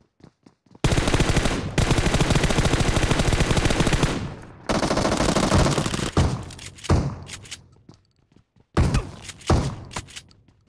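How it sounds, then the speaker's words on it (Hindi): Gunfire in the BGMI mobile battle-royale game, a shotgun among the shots, comes as loud dense bursts over about eight seconds, with short gaps and rapid repeated blasts that trail off into scattered shots. "शॉट गन से मारा मैंने, शॉट गन से"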